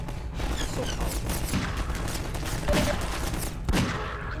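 Heavy Magnum revolver shots in Half-Life amid a noisy firefight, several sharp loud reports spaced a second or so apart over constant background clatter.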